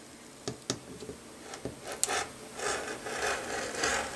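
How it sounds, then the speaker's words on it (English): Scissors or a rotary cutter trimming excess quilting fabric beside a foundation paper-pieced block, heard as a few soft rasping cuts and rubbing sounds, close and quiet, with no talking. "I would turn this over and trim away that excess fabric on the number four side"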